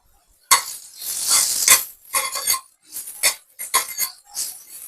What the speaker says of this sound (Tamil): அதையும் நல்லா ஃப்ரை பண்ணிடலாம்.